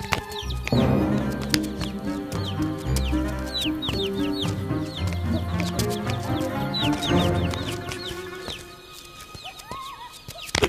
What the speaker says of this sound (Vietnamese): Bắt con gà giùm cho ổng đi, nghề của anh mà.